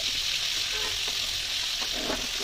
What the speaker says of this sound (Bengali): আমি হালকা আঁচে ভেজে নেব কারণ বেশি জোরে দিয়ে আমি ভাজতে পারবো না